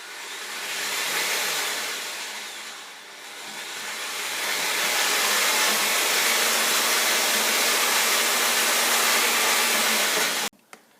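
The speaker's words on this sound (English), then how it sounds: "So I'm going to place the mixer in the bucket" Electric paddle mixer churning Snowcem cement paint in a bucket, a steady loud whirring drone that dips briefly then runs continuously before cutting off abruptly near the end.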